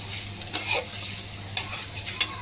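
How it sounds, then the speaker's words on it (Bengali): Onions frying in a pan hiss steadily up close while a spatula scrapes and stirs in a few short strokes, with no talk. "আগে পেঁয়াজটাকে ভালো করে নাড়িয়ে নেবো"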